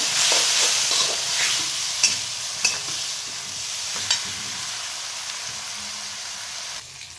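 Masala sizzling and frying in oil in a pan for a rustic hulga (horse gram) curry, with steady broadband hiss and several sharp clinks of a spoon stirring against the pan; no talking.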